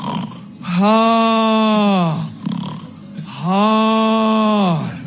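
A voice imitates loud snoring, two long, drawn-out rasping snores with a pause between them, close and forceful.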